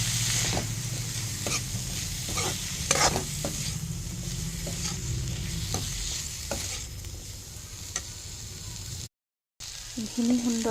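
Ground turmeric, chilli, cumin and meat masala frying in a pan for fresh pea ghugni, giving a steady sizzle with scattered spoon scrapes and stirring knocks, interrupted by a brief silent gap near the end.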